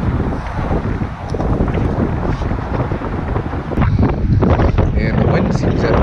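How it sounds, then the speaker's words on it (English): Strong wind buffeting the microphone outdoors on a trout fishing trip, a loud continuous roar with gusting swells throughout. "the wind seems to have picked up too"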